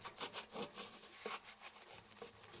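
Ash cleaner is rubbed onto the glass of a wood burner that has gone over twenty years without cleaning, a rhythmic scrubbing with repeated back-and-forth strokes, close and fairly soft, with no talking.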